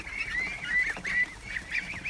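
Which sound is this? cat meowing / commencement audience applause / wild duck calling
wild duck calling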